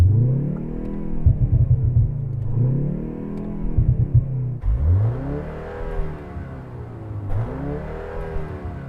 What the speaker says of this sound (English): I can hear some kind of distant popping and banging sounds